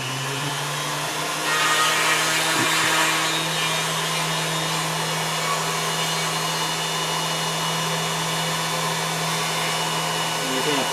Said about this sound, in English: Start my punch router.